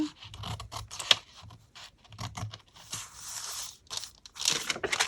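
Scissors snipping through an old paper envelope and fabric while making a junk journal pocket, giving close, irregular scratchy cuts and crinkling rustles with brief pauses between strokes.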